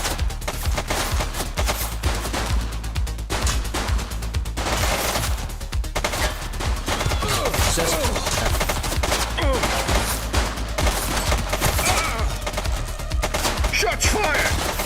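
Sustained bursts of rapid gunfire and automatic weapon fire in the police game The Precinct, dense and loud throughout with brief lulls, layered over a low rumbling score.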